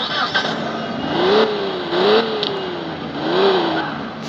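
A car engine revving in the driving game Car Simulator 2, three rising and falling rev sweeps over a steady engine drone.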